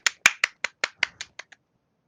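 About nine quick, sharp hand claps come in an even, brisk rhythm and fade slightly in strength toward the end, close and alone with no talk.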